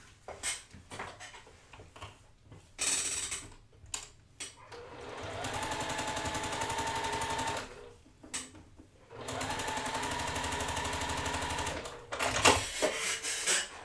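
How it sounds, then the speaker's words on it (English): A sewing machine stitches quilt patches along their long edge to finish a four-patch block, running in two steady, close-up bursts of a few seconds each, separated by brief pauses and handling clicks. "I'm going to fold them right sides together and sew along that long edge to finish out my 4"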